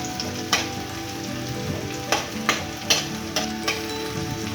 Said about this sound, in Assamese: এয়া পিঁয়াজ ভাজি আছোঁ।